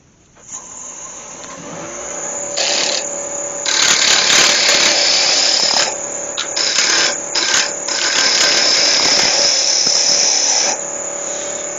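A wood lathe turning the small wooden feet of a baby elephant carving, a loud, high steady whine with the tool biting in and out in bursts over several seconds.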